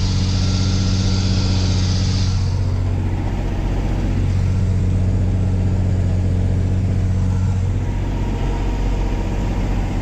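A John Deere tractor engine, either a 4955 or a 4240S, runs steadily near the microphone, a deep continuous diesel drone with slight shifts in load and no voices.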